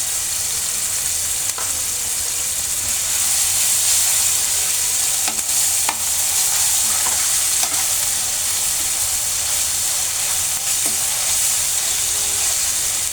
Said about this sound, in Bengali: আমি এখন দেবো একটু আদা বাটা।